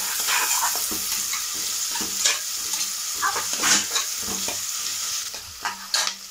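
Onions and green chilies fry in a pan with a steady hiss, while a spoon scrapes and stirs in repeated close, sharp strokes.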